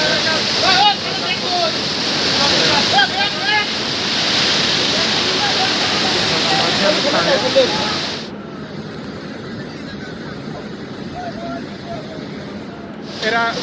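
Waterfall at Borjhora in Bongaigaon, Assam, with people bathing in it: a steady, loud broadband rush of falling water that drops to a quieter roar partway through, with voices faintly mixed in.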